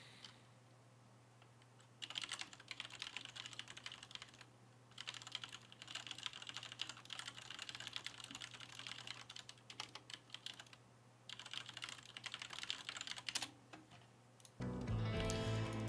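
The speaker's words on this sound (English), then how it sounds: "Hold on, let me type in the chat again." Rapid clacking on a computer keyboard in bursts of typing with brief pauses, close and fairly quiet over a low steady hum, ending with a short burst of game music.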